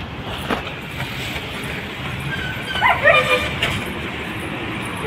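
A dog outdoors at dusk, heard near a roadside tea stall, gives a few short barks and yips in the middle of the clip over steady outdoor background noise.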